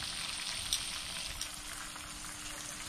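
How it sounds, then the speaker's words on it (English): Crappie fish frying in hot grease, a faint, steady crackling sizzle with a few small pops, heard alone without talk. "we're just cooking fish."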